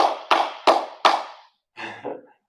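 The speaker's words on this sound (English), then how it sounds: "And give yourself a round of applause." Four sharp, evenly spaced claps from a small group at the end of a 30-minute HIIT triceps workout, followed by two softer, looser claps after a short pause.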